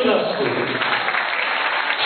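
Audience clapping at a fashion show for women over fifty, a steady crackling wash of applause filling the whole moment with a few voices mixed in underneath.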